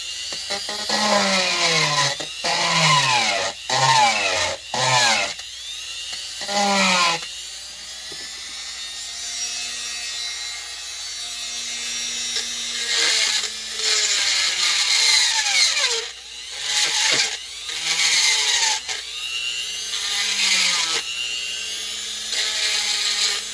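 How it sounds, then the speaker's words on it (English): A Princess Auto Power Fist rotary tool grinds on a Radley chainsaw air filter housing, its high whine rising and falling through several short bursts and longer steady runs, close and loud. "let's take out the old rotary tool, the Princess Auto Special Power Fist"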